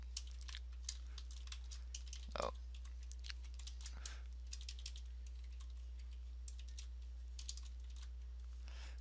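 Code being typed on a computer keyboard in Notepad++, a steady patter of light key clicks close up with occasional heavier presses, quiet throughout over a low electrical hum.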